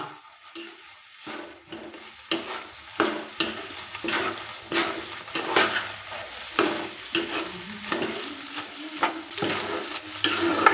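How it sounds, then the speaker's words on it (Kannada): A pan of green gram palya with fresh coriander is stirred, the spoon scraping in an irregular rhythm of close, moderately loud strokes over a soft steady sizzle, no voices. "ಇದಾದ ಸ್ವಲ್ಪ ಚೆನ್ನಾಗಿ ಮಿಕ್ಸ್ ಮಾಡ್ಕೊಂಬಿಡೋಣ"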